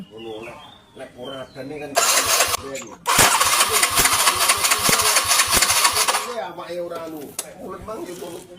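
A motorcycle converted from fuel injection to a carburetor with a Shogun CDI, turning over on the starter and then running loudly and roughly for several seconds, with talk before and after.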